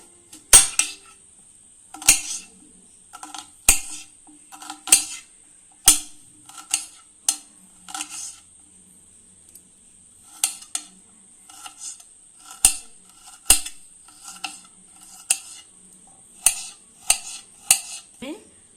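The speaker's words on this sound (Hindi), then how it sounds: "पियाज को एबे हमें छोट छोट करी काटी नेबा।" An onion is chopped into small pieces with a knife on a board, heard as sharp, close, separate knocks in irregular bursts with short pauses between them; faint voice sounds come in between the cuts.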